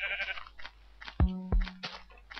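Sheep in the video game Minecraft bleat, two short wavering bleats in quick succession, moderately loud amid light game sounds and no talk.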